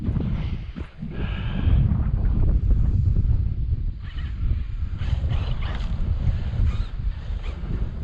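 Strong wind gusting across an open gravel pit buffets the microphone in a continuous low roar, with brief fluctuations and no talk.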